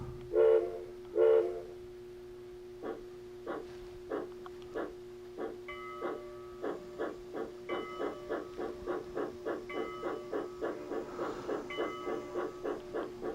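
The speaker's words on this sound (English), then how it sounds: "train number 1 is leaving Old Port and heading for Port Royal." Two short whistle toots, then a steady chuffing rhythm that gradually quickens as a narrow gauge model train pulls away from a layout station, moderately loud and close.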